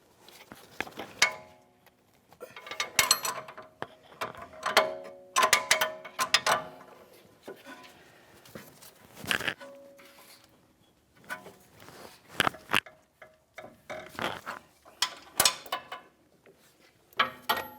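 A ratchet tightens the nut on a front sway bar link of a Ford Flex, giving bursts of close metallic clicking and clanking with pauses between strokes.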